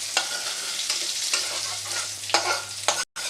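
Neem leaves and eggplant frying in hot oil give a steady close sizzle, with repeated scraping strokes as the pieces are stirred and lifted out, then a brief moment of silence near the end.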